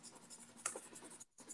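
A harder blue pastel stick scratching across unsanded Canson paper, making faint, close, dry strokes with a brief pause near the end.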